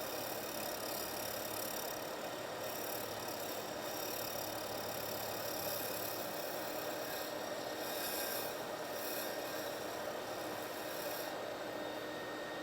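A custom kitless pen blank is shaped down on a lathe, giving a steady, continuous abrasive rubbing hiss over a constant motor hum, unbroken and without talk.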